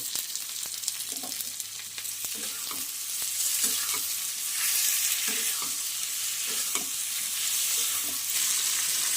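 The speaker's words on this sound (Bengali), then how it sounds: "ভেজে নেব" Chopped onion and tomato frying in a pan for a prawn curry, giving a steady close sizzle that swells halfway through, with occasional soft scrapes of stirring over the hiss.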